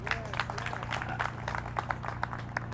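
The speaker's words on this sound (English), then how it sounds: "Please give her a round of applause" Scattered applause from a modest crowd at an 83rd birthday celebration, moderately loud over a steady low hum, with a few distinct claps standing out.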